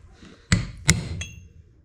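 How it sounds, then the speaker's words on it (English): Two sharp metallic taps followed by a lighter third, made by driving an input shaft seal into a Massey Ferguson 35 tractor with a socket, close and ringing briefly. "I've got a couple of different size sockets that I can use to drive it in there"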